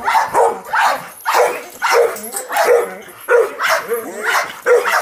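Dogs bark repeatedly outdoors in a muddy yard, close and loud, in short rhythmic bursts that run through the whole stretch with a few yips mixed in.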